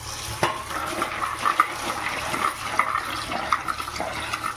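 Radish seed pods being washed in water, with steady splashing and sloshing close by and a few sharper splashes as the pods are moved about in a vessel; no talking.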